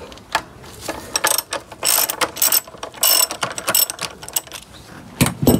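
A ratchet undoes a brake caliper bolt on a Honda VFR1200X Crosstourer motorcycle, giving rapid close clicking bursts in uneven runs with short pauses between strokes.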